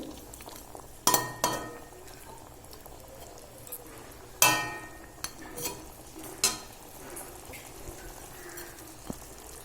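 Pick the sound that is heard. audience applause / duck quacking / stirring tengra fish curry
stirring tengra fish curry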